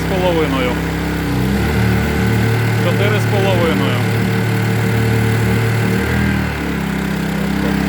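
Two Honda EU22i inverter generators running in parallel under heavy electrical load, a steady close engine drone with a slight shift in pitch partway through, heard beneath someone talking.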